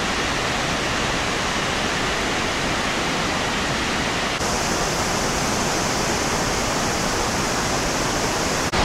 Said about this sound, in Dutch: Even gestopt aan een waterval om te bekijken.